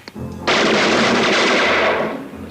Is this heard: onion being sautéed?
no